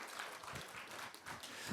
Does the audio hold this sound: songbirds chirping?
no